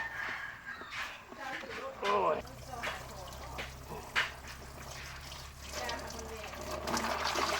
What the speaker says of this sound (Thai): ทำการล้างกระมังหนึ่งรอบ